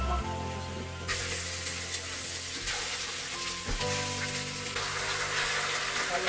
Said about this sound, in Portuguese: Olha aqui, ele vai fritando e mexendo, fritando e mexendo.